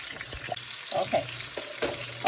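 Steady sizzling crackles from beef roast frying in a hot pan, with soft pops and a few brief stirring sounds, close by and moderately loud.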